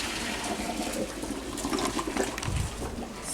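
Saved pasta water poured from a pot into a bolognese sauce, a steady splashing pour of liquid that runs throughout with no talking over it.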